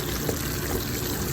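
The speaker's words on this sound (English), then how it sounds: "we're going to add just a little bit more water" Water poured into a pot of coconut chickpea curry with vegetables, a steady broadband splashing pour running loud and continuous for the whole moment, with no voices.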